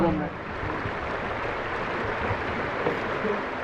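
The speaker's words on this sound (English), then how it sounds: "I quite like the sound of a babbling brook." Shallow, low-running brook flowing over rocks outdoors, a steady close wash of rushing water that stays even and unbroken throughout.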